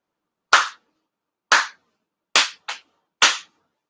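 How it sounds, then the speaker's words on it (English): Four ritual hand claps at a Tenchi Kane no Kami ceremony, sharp and close, sounding alone in silence with even spacing except the third and fourth, which come in a quick pair. "4 sincere claps."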